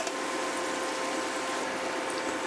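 Small honey beignets bubble and sizzle in hot frying oil, a steady dense crackling hiss that holds at an even, fairly loud level throughout with no voices.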